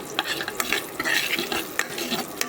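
Curry leaves and cumin seeds fry in hot oil as a tempering for hotel-style rasam, with a constant crackling sizzle broken by repeated spoon scrapes and stirring clinks against the pan.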